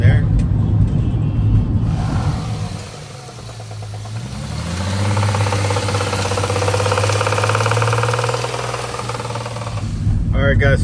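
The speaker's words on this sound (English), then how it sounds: "Like it's knocking. It's literally knocking." A truck engine with a knocking fault runs close by, a steady low idling drone with a faint repetitive tapping, while muffled background noise and voices surround it.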